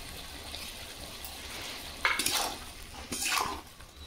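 Fried prawns tipped into a pan of cooking ash gourd: a steady low sizzle and simmer, then two brief clattering scrapes and splashes as the pieces go in and settle, close by with no talk.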